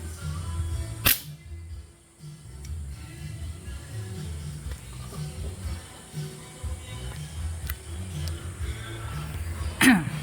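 A repaired foot pump with a new valve pops as air bursts through, giving a few sharp, separate cracks spaced several seconds apart over a low background rumble.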